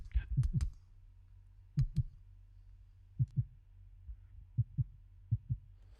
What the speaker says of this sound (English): crossfade from the regular kick sound that we've heard up until this point into a heartbeat sound